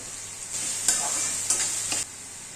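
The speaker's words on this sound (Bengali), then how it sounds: "পেঁয়াজ কুচি লঙ্কা কুচি দিয়ে ভালোভাবে নেড়ে সামান্য একটু নুন দিয়ে ভালোভাবে পেঁয়াজগুলোকে ভাজতে হবে" Chopped onions and chillies frying in hot oil, a steady bright sizzle with two or three louder scraping stirs of a spatula in the pan, close and clear, without any talking.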